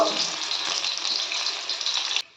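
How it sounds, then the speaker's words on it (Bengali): Coriander leaf pakoras deep-frying in hot oil over a medium-high gas flame, a dense, continuous close sizzle that cuts off near the end. "এভাবেই আমি সমস্ত পকোড়াগুলো ভেজে নেব"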